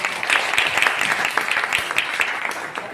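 Audience applause at a business seminar, a steady dense wash of clapping from a crowd, fairly loud and continuous for a few seconds with no speech over it.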